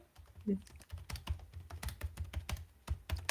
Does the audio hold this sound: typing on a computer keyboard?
yes